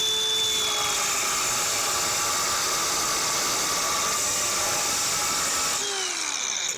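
A power cutting tool slices through rusty floor-pan metal on a 1970s Chevelle, a loud, steady, high-pitched whine that holds without pause and drops in pitch as it winds down near the end.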